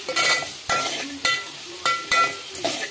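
A spoon stirs okra curry in a hot pan, giving several distinct scraping strokes against the metal at an irregular pace over a soft sizzle, with no talking.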